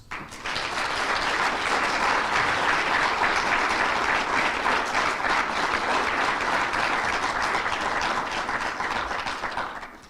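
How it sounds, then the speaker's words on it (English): A crowd of Batswana in the diaspora applauding at a meeting with President Duma Boko, a loud sustained round of clapping that swells quickly, holds steady, then tapers off. "give him a big round of applause"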